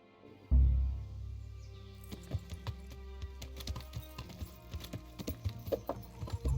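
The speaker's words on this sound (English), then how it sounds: "Horses come roaming." A horse in the video game Kingdom Come: Deliverance clip-clops along after a heavy low thump near the start, its hooves landing in a close, steady series of sharp knocks with no talking.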